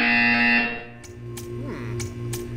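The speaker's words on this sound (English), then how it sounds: "You will hear a buzzer." A flat electronic buzzer tone from Portal 2's test chamber sounds loud and sustained for about half a second, followed by fainter synthetic tones and short clicks.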